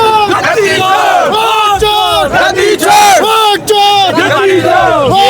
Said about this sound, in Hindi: यहाँ भीड़ ही भीड़ है और चारों साइड यहाँ पे कांग्रेस के कार्यकर्ता और लोगों का जन सैलाब है